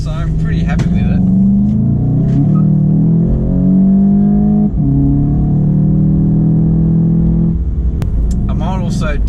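A 2018 Volkswagen Golf GTI Mk7.5 with a four-cylinder two-litre engine and DSG gearbox pulls hard, its droning note climbing in pitch through a couple of gear changes, loud and close from inside the cabin.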